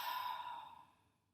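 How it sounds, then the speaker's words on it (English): A slow mouth exhale during a guided breathing exercise in a yoga flow: a soft, airy breath, closely miked and fading away over about a second, with no talking over it. "Exhale through our mouths."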